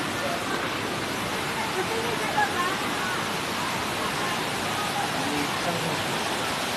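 Bunsong Falls waterfall near Baler, a steady broadband rush of falling water, loud and constant throughout with no break.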